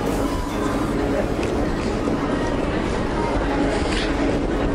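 A number 96 tram rolls along Acland Street in St Kilda, Melbourne, a steady rumbling rail noise running throughout amid street bustle and people talking.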